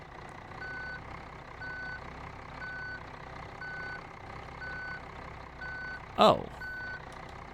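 A dump truck in BeamNG Drive reverses with a steady series of evenly spaced electronic backup beeps over a low engine drone, and a brief exclamation cuts in near the end.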